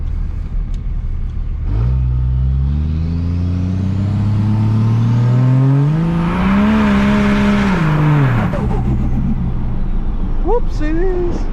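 An 1100-horsepower Cummins diesel fitted with a new turbo revs up, climbing steadily over several seconds, holding high, then dropping off sharply. It is loud and close, and a turbo whistle rises over the engine.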